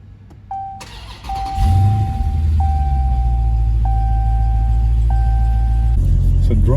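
Dodge Challenger Scat Pack 50th anniversary with a 6.4-litre V8 starting up and idling, a deep loud rumble under repeated dashboard chimes, heard from inside the car.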